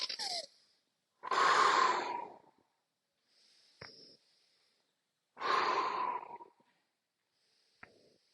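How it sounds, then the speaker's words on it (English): Two forceful, close exhalations during a qigong exercise, each a strong breathy blow lasting about a second, separated by quieter breaths and small clicks. "Breathe out. Blow it out."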